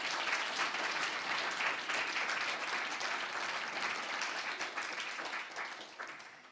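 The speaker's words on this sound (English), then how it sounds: "Give session 4 a loud hand of applause" Audience applause closes a conference session on institutional and governance frameworks and funding mechanisms, a steady dense wash of clapping from a seated crowd that holds throughout and begins to taper in the final second.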